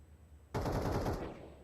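A short automatic rifle burst in Counter-Strike, close and loud, rattles for under a second after a quiet moment and then tails off.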